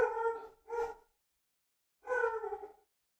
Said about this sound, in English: Angry Barks.